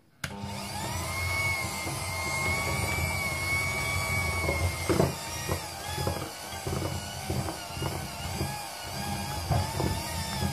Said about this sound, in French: on va fouetter à grande vitesse pour avoir une belle crème